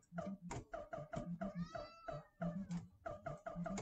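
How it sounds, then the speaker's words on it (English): Pet cats meow repeatedly and insistently, a rapid run of close, loud, overlapping cries with barely any pause. "Both cats are like, why are you not paying attention to us?"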